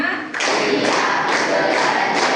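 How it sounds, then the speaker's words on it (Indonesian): Classroom students clap together in a counted clap chant, a loud, dense burst of hand claps starting sharply and continuing steadily close by, with voices mixed in. "Tepuk 1, tepuk 2, tepuk 3, tepuk 4, tepuk 5."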